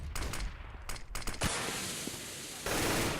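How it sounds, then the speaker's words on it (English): AK-47 gunfire in Counter-Strike comes as short sharp bursts of shots, then a louder close blast and a sustained rattle of fire, all fairly faint at a tournament match. "Double AK-47 headshot from Insta."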